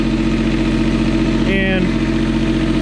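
Yanmar tractor diesel engine running steadily and loud throughout, its note briefly rising with a whine as the power shift transmission changes up into third gear.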